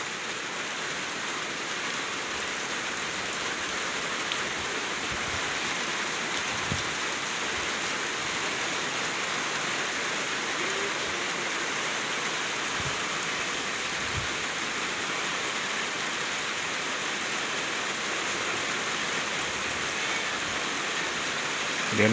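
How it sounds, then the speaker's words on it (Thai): Heavy rain pouring at a house in Thailand in late April, a dense, steady hiss of drops drumming on surfaces with a few faint dull knocks, continuous and close throughout. "ฝนตกเลยพี่น้องเอ้ยมื้อนี้โอ้ฝนตกเพิ่งแน่มีเลย"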